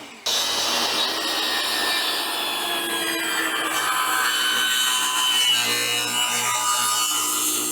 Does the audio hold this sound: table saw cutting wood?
yes